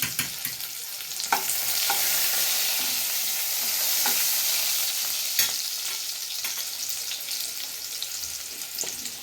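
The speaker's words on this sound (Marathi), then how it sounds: "जो आपण एक बारीक लहान कांदा शिजलेला आहे तो त्या फोडणीत टाकला आहे" Steady, hissing sizzle of chopped onion frying in hot oil for a tempering, with occasional scraping clicks of a spoon stirring the pan.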